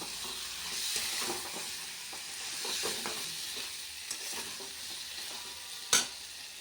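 Curry stir-frying in oil in a pan, a soft steady sizzle with spatula scrapes and stirring, ending in one sharp clank.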